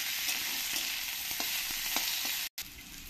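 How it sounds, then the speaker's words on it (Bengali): Chopped onions fry in a pan for masoor dal, giving a loud, continuous close-up sizzle with faint stirring taps and a brief cut near the end. "পেঁয়াজ কুচিগুলো দিয়ে একটু লাল লাল করে ভেজে নিতে হবে"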